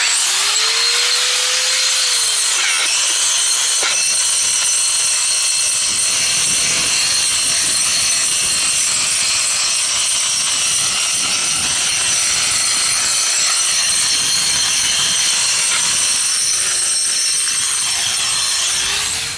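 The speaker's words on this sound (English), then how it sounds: "You see this grill, this diamond bit right here, this is a 4-inch grinder. Just goes on, I do this." A 4-inch angle grinder fitted with a diamond bit grinds paint off a concrete foundation, a loud, steady, high-pitched whine with a rasping edge that runs continuously, close up and with no talk.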